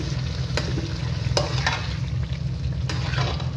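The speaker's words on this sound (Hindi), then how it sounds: "चिकन को भी हमने फ्राई करना है 2 से 3 मिनट प्याज के पेस्ट के अंदर।" Chicken pieces fry in onion paste in a pan, a loud close steady sizzle with occasional sharp scrapes of stirring, no talk.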